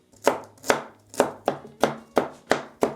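A knife chops nuts on a board in a steady rhythm, seven crisp close strikes about half a second apart, with no talking.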